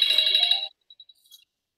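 A phone ringtone going off during a zoning board meeting, a loud electronic melody for about half a second, then a few faint trailing tones before it cuts out.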